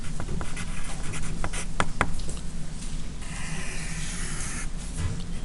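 Marker or pen scratching across a board while a physics problem diagram is sketched, steady close scraping strokes with a few sharp taps, over constant background hiss, no speech.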